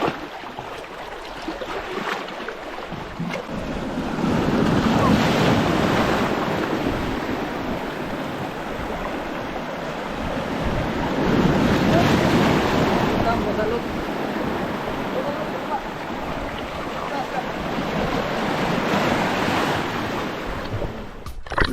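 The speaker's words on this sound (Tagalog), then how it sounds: "Grabe yung amihan mga bay," A strong amihan monsoon wind blows over the sea and drives rough waves, making a continuous heavy roar and rush that swells and eases, with wind buffeting the microphone.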